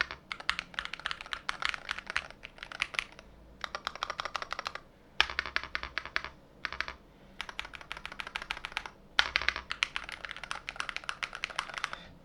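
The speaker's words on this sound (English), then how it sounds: "so you guys can hear how the keycaps and the switches sound like when they're pressed" Keys on a Womier SK75 HE keyboard are typed in quick bursts of close, crisp clacks, with short pauses between runs.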